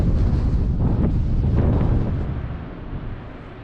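Strong wind buffets the microphone on a coastal footpath, a loud, low roar that gusts heavily and then eases slightly toward the end.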